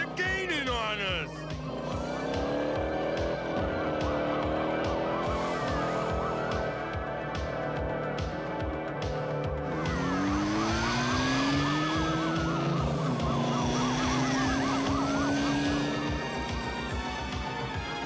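A cartoon car chase with a pursuing police car: a revving engine drones under a wailing, swooping siren, with screeching effects and a mid-chase clatter, loud and continuous throughout.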